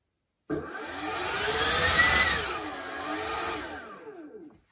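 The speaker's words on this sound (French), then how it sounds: "Et puis donc pour cette turbine, un petit test là." A 6 kW RC model turbine for a Blade 2 build spins up on a bench test run, a loud steady whine that rises and swells, with pitch sweeps and a hissing airy rush before easing off near the end.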